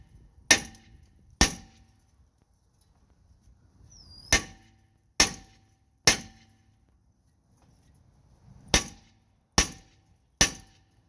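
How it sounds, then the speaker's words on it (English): Eight sharp metallic strikes from a short-handled sledgehammer hitting the side of a rusted brake rotor on a Toyota Venza, spaced irregularly with quiet gaps, each ringing briefly before dying away. "Nice little short handle sledge, right on the side."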